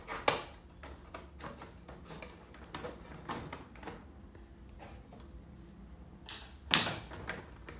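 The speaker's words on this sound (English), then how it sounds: "put it over the hooks so that it slides down into the notches" Wooden join lock piece being slid down into the notches of a game backboard, a series of light clicks and knocks with a sharper clack near the end, close and quiet.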